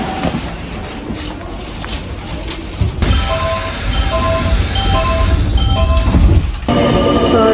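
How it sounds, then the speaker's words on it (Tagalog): A train pulls into a station in Japan, a steady loud rumble of wheels and rolling carriages with faint brake squeals, rising as it arrives close by. "baba na tayo kasi parating na yung train"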